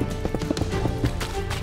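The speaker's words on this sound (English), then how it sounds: "I don't know how our horse got in the water. He's taking a dip though." Quick, close clip-clop hoofbeats from a Minecraft horse standing in a pond, sounding loud and rhythmic over the short span, with no voices over them.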